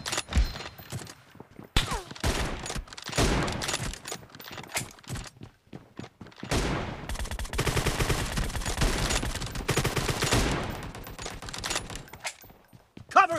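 Gunfire in PUBG, in a team deathmatch using the M24 sniper rifle: bursts of shots and rapid fire come in clusters through the clip, close and fairly loud, with short quiet gaps between them.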